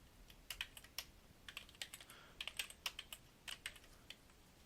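Close, quiet clicking of computer keyboard keys in irregular bursts of taps while code is being entered, with no voices.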